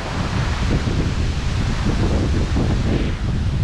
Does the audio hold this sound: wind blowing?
yes